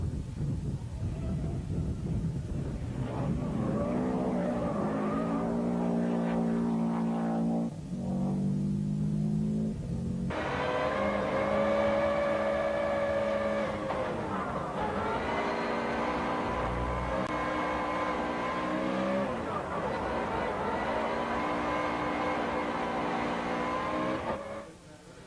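A Formula One race car screams around a track, its high-revving engine rising and falling through gear changes, loud and continuous with brief dips between shifts, no talk over it.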